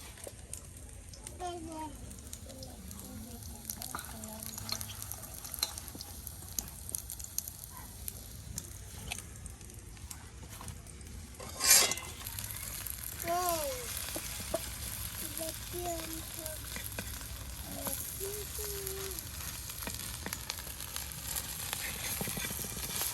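Spiced brinjal frying in oil in a home kitchen, stirred and turned over: a steady, fairly soft sizzle runs throughout, with scraping stir strokes and a sharper clatter midway, under someone talking.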